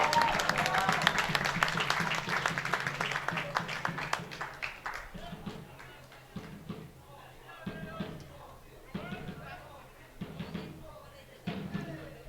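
A crowd at a soccer match at Sunset Stadium applauds loudly at first, then the clapping fades into scattered thumps and a voice talking over the quieter stretch.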